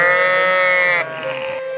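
Sheep bleat loudly and close at an Estonian breed-animal livestock show, one long wavering call running about a second, followed by a softer second bleat.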